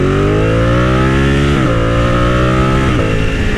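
A Ducati Panigale 899 motorcycle in race mode accelerating hard, its loud, steady engine note climbing in pitch, with two quick dips as it shifts gears.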